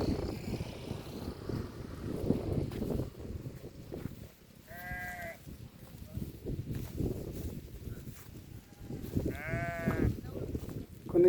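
Sheep and goats in a dry landscape bleat in two short, clear calls separated by a few seconds. The calls rise over a constant rumbling background drone.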